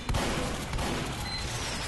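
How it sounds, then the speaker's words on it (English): Shotgun fire in Team Fortress 2, a dense burst of booming blasts packed close together at the start and continuing as loud, rumbling gunfire through the rest of the moment, with no talk. "I will shoot them off with my shotgun if I have to"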